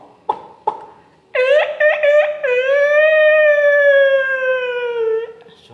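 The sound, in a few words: voice imitating a tiger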